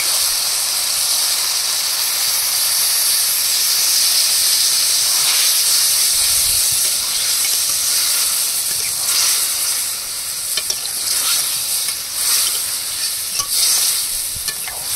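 A little water poured over cooked okra in a hot pan, bursting into a loud, steady hiss and sizzle of steam with stirring clatter, close and continuous with no talking.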